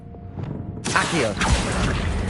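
An Accio summoning spell from the Hogwarts video game bursts in with a sudden bright whoosh after a quiet start, followed by a sustained rushing swish and a low thump.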